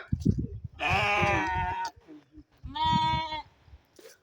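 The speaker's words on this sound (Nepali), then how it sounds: "अनि यो चाहिँ हाम्रो भेडा" Two drawn-out, wavering sheep bleats, loud and close, with a person speaking briefly just before them.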